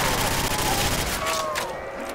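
RPK machine gun firing in a custom zombies video game, a dense rapid burst of shots that keeps going and then tails off, with a voice talking over it.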